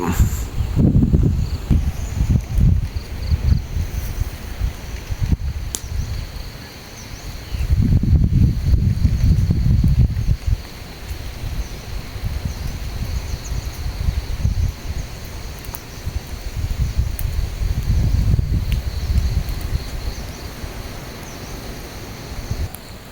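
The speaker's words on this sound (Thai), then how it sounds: "เช้านี้ว่าบรรยากาศลมแรงมากเลยครับ" Strong wind gusting through leaves beside a hut in a rice field, a loud rushing rustle with heavy microphone buffeting that swells and fades in several waves, with no talking.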